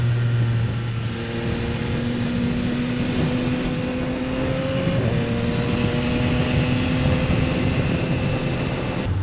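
A Yamaha XSR900 motorcycle rides along with a continuous engine drone and rushing wind, the pitch rising slightly as the revs climb, loud and close throughout.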